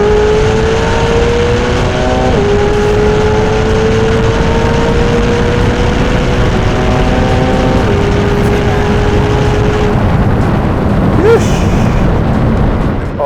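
A 1000hp McLaren 720S with a Novitec exhaust roars close and loud under hard acceleration, climbing through several gear shifts in a rising, sustained drone before a sharp pop near the end.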